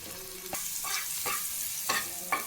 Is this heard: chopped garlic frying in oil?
yes